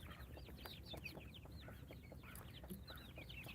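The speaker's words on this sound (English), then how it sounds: "Yep, chickens." A flock of forty-one young eight-week-old Easter Egger chickens clucking and chirping steadily in overlapping calls inside their coop, continuous chatter at close range.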